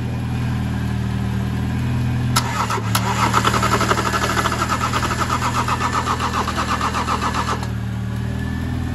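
A BMW E30 fitted with a diesel engine in a 4x4 build, with a faulty pump, cranks steadily in a first attempt to start, a loud continuous churning starter rhythm lasting several seconds before cutting off.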